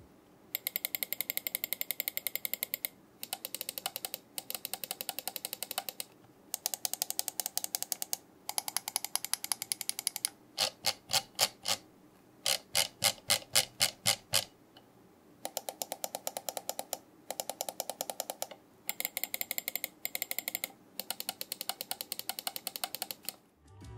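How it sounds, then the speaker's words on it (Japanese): Crisp bursts of rapid clicking from a Vaxee Outset AX gaming mouse, an ergonomic shape with a rough-textured button surface, close and dry, in repeated runs separated by short pauses, with no voice. "ではマウスのクリック音を聞いてみましょう"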